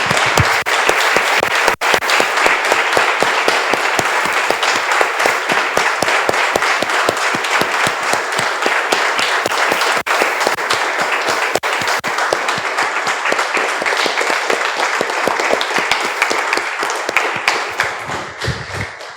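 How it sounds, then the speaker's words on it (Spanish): A church congregation breaks into sustained applause after a prayer, dense steady clapping from many hands continuing loud and even for nearly twenty seconds before tapering slightly at the end. "Damos un aplauso, hermanos, al Señor."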